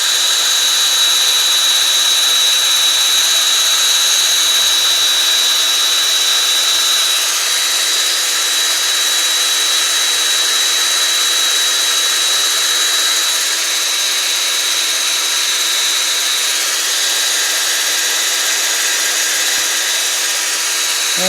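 A power drill whines steadily as it bores through the metal flint tube of a vintage Nordad aluminum block lighter for a long stretch, a loud, continuous grinding drone with a high steady tone.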